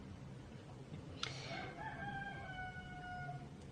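A rooster crows once, a drawn-out cock-a-doodle-doo rising and trailing off, heard at a moderate distance over a steady background hiss.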